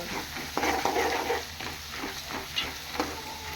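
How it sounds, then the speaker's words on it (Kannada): Crushed garlic frying in oil in a pan, a soft steady sizzle with a few sharp stirring scrapes and taps, close and fairly quiet, no talking. "ಇವಾಗ ಇದು ಕೂಡ ಎಣ್ಣೆಲಿ ಫ್ರೈ ಆಗಬೇಕು."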